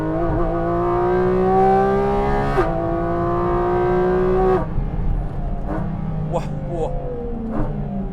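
A Porsche GT4 RS driven flat out on Italian mountain roads, its engine note climbing steadily through high revs from inside the cabin, then a gear change and lower, rougher running with brief bursts, while people talk.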